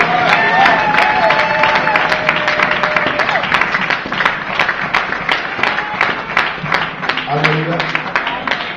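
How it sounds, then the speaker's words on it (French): A church congregation claps loudly and steadily, with quick overlapping hand claps running throughout and some voices mixed in. "Acclamons très fort les amis."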